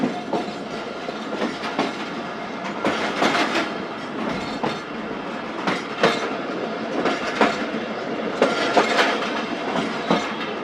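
Thal Express passenger train running through mountain country, a loud steady rumble with rhythmic clickety-clack wheel beats recurring over rail joints, heard from on board, with no voices.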